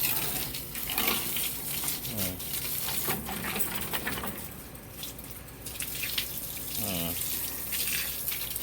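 Fresh water runs steadily from a tap over a pet being bathed without soap or shampoo, a continuous splashing wash close by with brief voices and small animal sounds breaking through.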